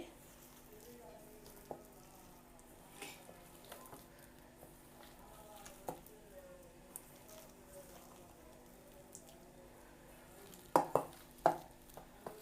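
Medu vada batter of ground urad dal with baking soda, green chilli and ginger pieces is mixed by hand, giving soft, quiet squelching and stirring noises, with a few sharper clicks near the end.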